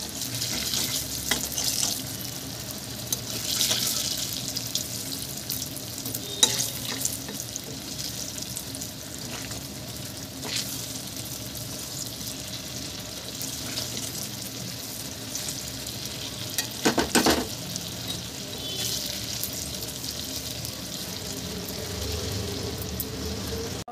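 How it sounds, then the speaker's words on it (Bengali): Dahi vada batter fritters frying and being gently stirred and turned in hot oil, a steady close sizzle running throughout with occasional scraping stirs and no talking. "এবার এগুলোকে আমি আস্তে আস্তে করে নেড়ে নেবো।"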